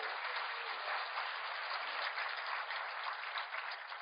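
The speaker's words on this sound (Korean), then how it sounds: "감사하시면 하나님께 영광의 박수." Church congregation applauding in praise during a worship service, a steady, dense wash of clapping that holds evenly for about four seconds with no talk over it.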